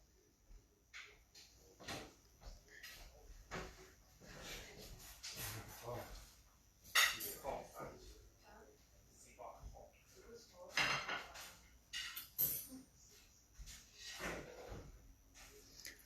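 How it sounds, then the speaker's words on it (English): A family washing up after dinner in a kitchen: intermittent clinks of dishes and cutlery, drawer and cupboard knocks, and water sounds, heard fairly faint in the background with voices talking. "they've just had their dinner and they're washing up."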